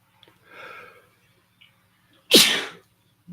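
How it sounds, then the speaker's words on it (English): A single sharp sneeze bursts out after a brief quiet breath, close and loud against near silence. "If you have a sneeze, you can notice the sensations of the body as it sneezes."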